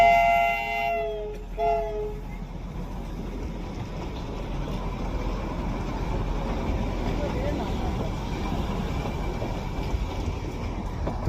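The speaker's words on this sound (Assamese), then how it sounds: "तो ये रहा आपका टॉय ट्रेन" The Darjeeling toy train, pulling just three coaches, runs around Batasia Loop; a brief horn-like tone opens, then a steady rolling rumble of wheels and carriages continues close by for the rest of the stretch.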